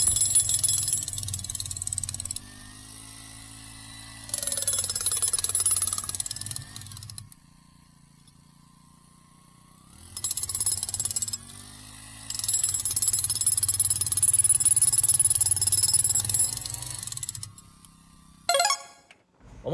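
A 60,000-yen engine-powered breaker hammers at a huge rock in two long bursts of rapid, loud pounding. A quiet pause separates them, a shorter burst comes before the end, and no one speaks.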